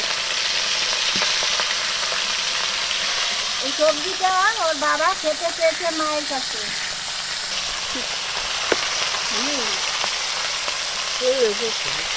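Bhola fish frying in a pan gives a loud, continuous hissing sizzle throughout, with someone talking over it in the middle and near the end.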